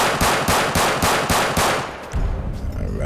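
Pistol gunshots from GTA 5 with the Real Immersive Gun Sounds mod fire in a quick, even series of about nine sharp, loud reports, then a heavier thump ends the sequence with some reverberant tail.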